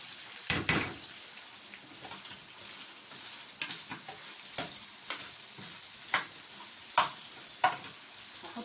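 Sausage with onions and peppers fries in a pan, a soft sizzle under a series of sharp scrapes and taps from stirring, spaced irregularly about once a second, fairly quiet and close.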